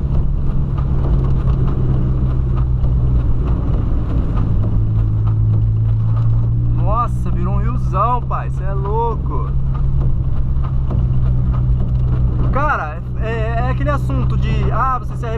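A 2008 Volkswagen Polo accelerates through a flooded street. A loud, steady engine rumble with washing water noise runs throughout, with someone talking over it in several bursts.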